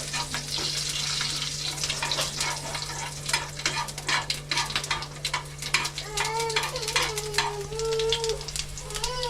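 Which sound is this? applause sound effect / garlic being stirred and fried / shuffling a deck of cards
garlic being stirred and fried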